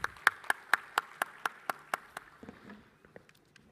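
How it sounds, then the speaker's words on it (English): An audience at India's National Space Day ceremony claps to welcome a speaker: about eight strong, evenly spaced claps in a steady rhythm, then quieter scattered claps fading out. "with a round of applause."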